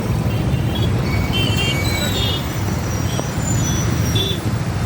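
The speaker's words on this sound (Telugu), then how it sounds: "Bengaluru world largest traffic jam" Dense Bengaluru traffic jam street noise forms a constant loud roar of engines, with a bus close by and faint squeals of brakes running throughout.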